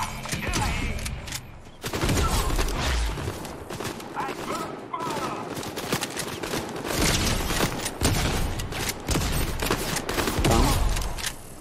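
Shotgun fire against bots in a video game, repeated heavy blasts in quick irregular bursts, loud and close, with a short pause early on and someone talking intermittently over the shooting.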